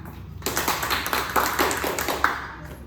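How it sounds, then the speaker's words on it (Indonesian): A group of young classmates claps together in a short burst of quick, fairly loud claps in a classroom, with a few louder claps standing out. "Tepuk tangan."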